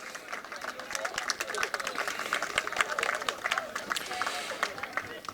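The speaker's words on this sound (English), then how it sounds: "Round of applause for the DRS62 Academy drivers" Applause and scattered clapping from a crowd of parents and spectators for young karting academy drivers at a Hooton Park kart race meeting, steady for several seconds.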